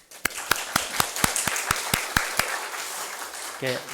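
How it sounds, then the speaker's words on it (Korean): A church congregation claps for the young pianist who played the service accompaniment, steady rhythmic hand claps in unison at about four per second over a soft crowd murmur, with a brief voice at the end. "박수 한번 해"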